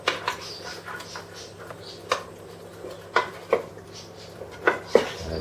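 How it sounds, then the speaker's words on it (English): Lamb and tomato being stirred in a pot: a spoon scrapes and knocks against the metal in irregular clanks over a low simmering background, with no talking. "Give them a nice little stir."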